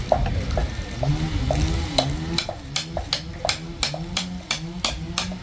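Stir-frying food in a pan, with a spatula scraping and clicking against the metal in a steady, quickening rhythm over a continuous sizzle, close by, while a low voice murmurs in the background.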